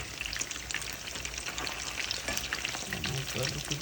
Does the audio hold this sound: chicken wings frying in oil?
yes